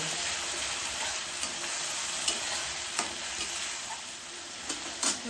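Spice paste for a potato and ritha fish curry fries in a pan with a quiet, even sizzle. A few sharp clicks from stirring punctuate it.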